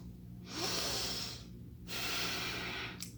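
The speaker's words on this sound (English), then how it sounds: "30 seconds of just listening to ourselves breathe" Slow, audible human breathing at close range: an inhale, a pause, then a long exhale and a second breath, with a faint click at the end and no talking.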